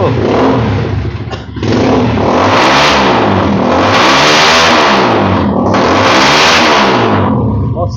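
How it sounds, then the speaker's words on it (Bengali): A YCR Black 1050 motorcycle revs hard through its exhaust, loud and close, with several rising and falling engine surges in quick succession and a short dip in between. "সেই সাথে আমরা একটু এক্সস্টের সাউন্ডটা শুনি"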